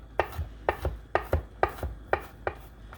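Knife chopping garlic on a cutting board for an Alfredo sauce: seven crisp, evenly spaced taps at a steady rhythm, close and fairly quiet, with no talking.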